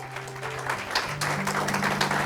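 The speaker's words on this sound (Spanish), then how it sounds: "Dele un aplauso al Señor." A church congregation applauds the Lord with sustained clapping over low held tones from instruments, the clapping swelling slightly toward the end.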